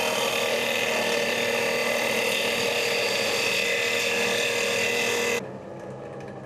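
Steel knife blade ground on a grinder to take it down beneath surface pits, a loud steady whine with a harsh rasp lasting about five seconds, then cutting off to a quieter motor hum.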